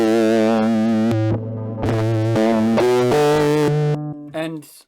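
Electric guitar played through a Green Ringer analog octave-up pedal with a blend mix and a touch of filtering, sustained bright notes changing pitch in steps, loud and alone with a buzzy ringing upper edge.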